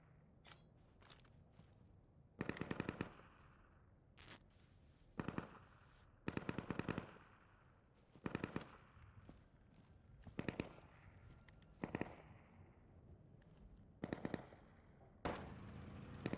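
M4 rifle fire in the Deadside video game comes in short sharp bursts and single shots spread across the stretch, crisp but fairly quiet, separated by gaps of low ambient noise.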